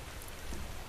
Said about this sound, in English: Is it raining outside? Of course it's raining outside.